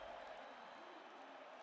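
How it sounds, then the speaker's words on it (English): Video game crowd in UFC 5 applauding and cheering after a round of a McGregor versus Chandler fight, a steady, faint wash of distant clapping and murmur with no break. "So the crowd voicing its appreciation after that round."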